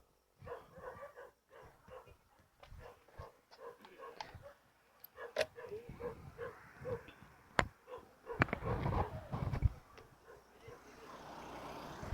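A dog barks in short, uneven bursts with some whining, over background noise and a voice talking.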